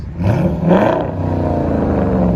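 A Jeep Grand Cherokee with a 5.7L HEMI V8 and Carven TR exhaust revs up loudly close by, the engine note rising sharply, then settling into a deep, steady rumble.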